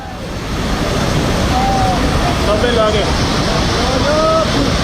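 Floodwater rushes in a steady, loud broadband roar after sweeping away a bridge in Nepal, with a flood that came from China; it is continuous and close, and faint voices and whistle-like tones sit over the torrent.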